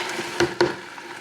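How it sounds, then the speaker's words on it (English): Grated homemade laundry soap is stirred into hot water, giving a soft swishing wash broken by two quick scraping knocks of the utensil against the container, close by with no talk. "Now, I'm just going to stir this in here until it dissolves."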